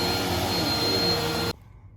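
A Bissell 2252 CleanView Swivel upright bagless vacuum runs with a loud, steady whine and motor drone, then cuts off abruptly near the end, leaving near silence.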